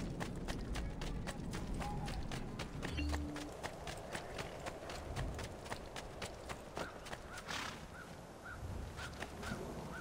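Horse hooves gallop in the video game Assassin's Creed II, a quiet, evenly paced clip-clop rhythm of many hoofbeats running steadily throughout.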